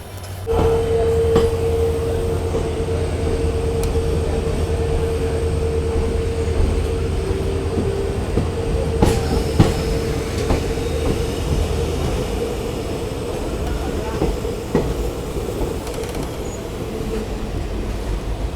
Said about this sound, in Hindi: चलो अभी फलोदी जंक्शन से अपनी ट्रेन निकल गई है।